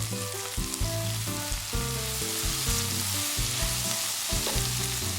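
Spring roll filling with bean sprouts is stir-fried in a hot pan for Thai fried spring rolls, a constant close sizzle with spatula scrapes and clatters throughout.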